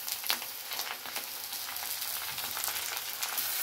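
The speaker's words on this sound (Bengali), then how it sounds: "পেঁয়াজটা ভাজা হয়ে গেছে, দিয়ে দিলাম কেটে রাখা টমেটো।" Chopped tomato hits hot onions in a wok and sizzles with a soft, steady frying hiss. The crackle stays low and even throughout, with no voices.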